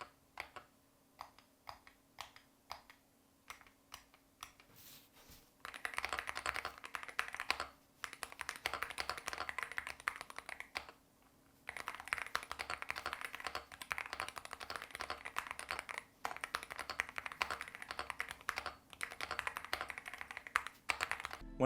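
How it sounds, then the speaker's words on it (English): Rapid typing on a MonsGeek M1W HE V3 keyboard, starting with quieter scattered keystrokes before settling into dense, steady clacking bursts with a few brief pauses, close and clear with no talking. "Here's a typing test."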